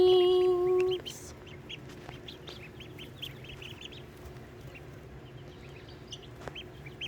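Newly hatched ducklings peep in a soft, scattered chorus of high chirps, fairly close, after a brief louder tonal noise at the start; the rest is quiet with light background hiss.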